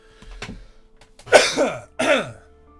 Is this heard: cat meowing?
no